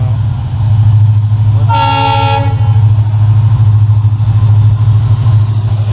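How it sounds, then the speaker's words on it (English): Coal-laden freight train rolling past Cansaulim railway station in Goa, a steady loud rumble of wagons throughout with a horn blast sounding about a third of the way in, close by and without talk. "this is one of the coal laden train moving passing Cansaulim Railway Station."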